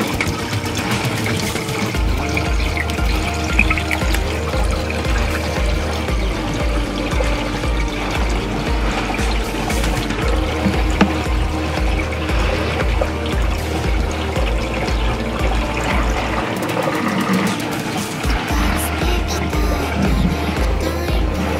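Water is poured out of an Adler AD8055 mini portable washer aboard a boat, a loud, continuous splashing gush over a pulsing low mechanical hum that lasts the whole stretch.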